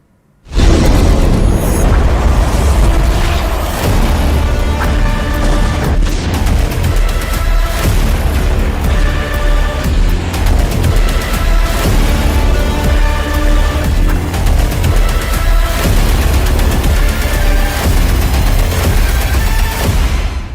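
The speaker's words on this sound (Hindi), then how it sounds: "खार्किव पर रूस के मिसाइल हमले से जोरदार धमाका हुआ और पूरा इलाका दहल गया" Russian missile strike on Kharkiv, a loud sustained roar of blasts and rumbling booms that fills the whole stretch, dense and continuous with no clear pauses or voices.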